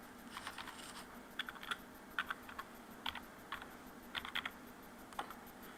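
Someone types on a computer keyboard while entering data into invoicing software, producing soft, close clicks in short, irregular clusters over a low background hum.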